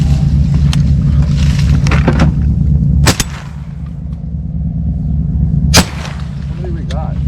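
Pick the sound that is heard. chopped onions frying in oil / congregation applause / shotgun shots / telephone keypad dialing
shotgun shots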